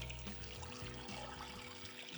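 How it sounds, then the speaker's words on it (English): Water is poured into a pot over beef for pulled beef, giving a faint, continuous splashing and trickling with no talk. "I'm going to top all that with water"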